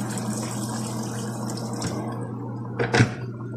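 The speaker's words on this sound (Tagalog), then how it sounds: "Dagdagan ko yung tubig kasi hindi pa luto yung macaroni." Water is poured into a pot of cooking macaroni, a soft running and bubbling sound over a low steady hum, with a brief louder splash near the end.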